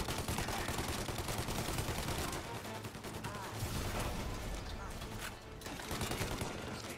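Enemy gunmen fire on the player in Mafia: Definitive Edition, a dense continuous barrage of gunshots and rapid bursts that stays loud throughout the clip.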